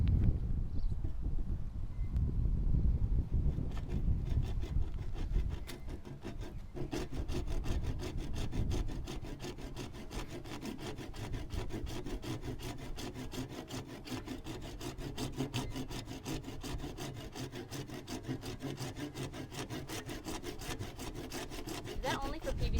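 A hand PVC pipe saw cuts through wood while a DIY step-and-repeat banner frame is being built, giving steady, close rasping strokes in an even rhythm that carry on for the whole stretch.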